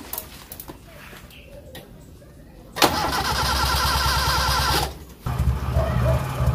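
Car engine starting during a voltage regulator test: quiet clicking, then a sudden loud crank that catches into a steady running drone for about two seconds, cuts out briefly, then settles into a rougher idle, close by.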